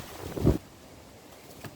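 Wind gusts buffet the microphone outdoors, with one strong rumbling burst early and a steady low blustery hiss afterward.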